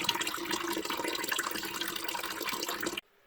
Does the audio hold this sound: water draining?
yes